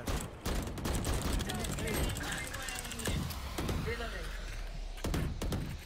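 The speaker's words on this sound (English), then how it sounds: "How does this guy keep shooting me through the fucking smoke?" Rapid bursts of gunfire ring out in a Valorant match, several sharp shots scattered across the moment, mixed with game effects while a player talks over the action.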